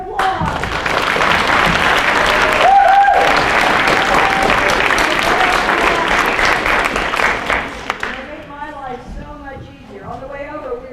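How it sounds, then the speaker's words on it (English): Audience at a sixth grade school play gives a loud round of applause, dense clapping with a few whoops running for about eight seconds before dying away as a voice begins speaking. "I would like you guys to give them a round of applause"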